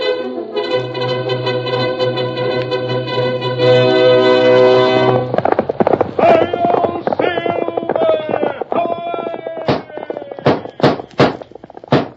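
Rapid galloping hoofbeats thud over a swelling orchestral fanfare, ending in a few sharp, isolated clip-clop strikes, from the opening of a 1938 Lone Ranger radio drama.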